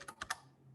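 A few quick keystrokes on a computer keyboard, three or four close clicks in a short burst, then quiet room tone.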